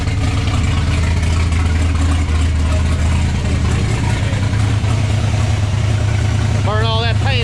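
A Ford Fox-body Mustang engine idles with a steady, loud low rumble, and a voice briefly comes in near the end.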